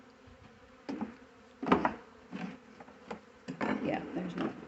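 Honeybees buzz around a hive and comb, with intermittent louder swells as bees pass close, and a voice speaks briefly.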